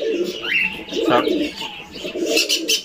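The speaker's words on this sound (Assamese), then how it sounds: "এইখিনি দেখা পাই আছে ফেণ্টেল পিজন, যেটো বগা পাৰ চৰাই হয়" Close-up cooing from fantail pigeons kept as breeding pairs on a fancy-pigeon farm in Guwahati, Assam. Soft repeated coos mix with light chirps and bird chatter.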